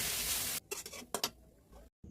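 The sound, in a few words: grated carrot frying in oil and ghee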